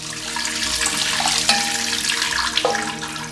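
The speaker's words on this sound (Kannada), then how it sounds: "ಲಾಸ್ಟ್ ಟೈಮು ನೀರು ಬಿಟ್ಕೊಂಡು ಈ ಥರ ನೀವು ಸಿಂಕಲ್ಲೇ ಇಟ್ಕೊಂಡು ತೊಳ್ಕೊಳ್ಬಹುದು" Tap water runs steadily into a kitchen sink while bamboo shoots are washed under it, a continuous close splashing rush with a couple of brief tonal squeaks partway through.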